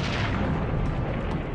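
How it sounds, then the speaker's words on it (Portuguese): A cannon firing upward in an Old West setting, as a loud, dense boom-like blast of broadband noise that fills the whole stretch with a steady, rumbling roar rather than a single sharp crack. "Um canhão."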